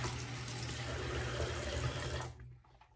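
A tap runs in a steady, hissing stream for a couple of seconds, then shuts off, leaving near silence.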